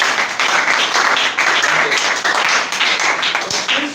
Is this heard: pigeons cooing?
no